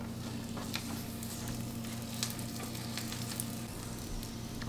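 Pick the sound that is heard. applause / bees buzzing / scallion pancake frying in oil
scallion pancake frying in oil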